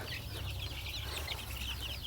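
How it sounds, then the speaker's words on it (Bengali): Soft, busy clucking from a group of broiler chickens about eighteen days old over a constant low hum, continuous and fairly faint. "এই যে আমার খাবারের মুরগিগুলো"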